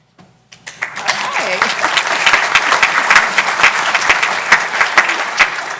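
Applause at a county board public hearing starts from a few scattered claps, swells into steady clapping from the room with individual sharp hand slaps standing out, and a voice briefly over it.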